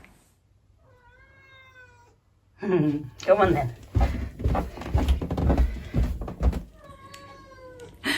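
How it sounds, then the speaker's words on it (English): A pet house cat meows repeatedly at close range, soft harmonic cries at the start and again at the end, with a person talking loudly in between. "he's meowing at me to go out again"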